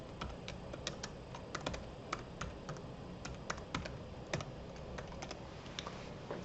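Messages being typed on a computer keyboard, a run of quick, irregular clicking keystrokes close by over a quiet background hum, with no one talking.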